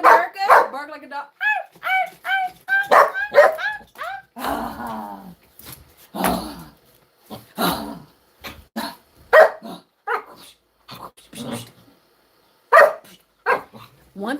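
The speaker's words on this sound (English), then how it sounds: "Bark like a dog." A dog barks and yips in a lively series of sharp, close barks mixed with whimpering and growly sounds, interleaved with a person talking.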